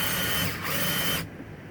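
A bolt is cranked down on a homemade strut spring compressor, making a steady, close grinding mechanical whir that runs for just over a second and then stops abruptly.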